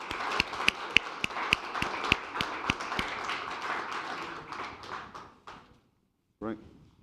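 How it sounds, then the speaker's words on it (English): Sparse, sharp claps from a small audience at a panel discussion, a few distinct hand claps thinning out and fading to silence, with a brief voice at the end. "Let's have a round of applause for our panelists."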